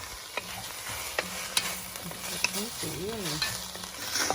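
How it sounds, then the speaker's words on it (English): Onions stirred as they fry in butter and olive oil for French onion soup, a steady close sizzle with scraping spoon strokes and brief clicks of the utensil against the pan, no talking. "So this just needs to be stirred up again."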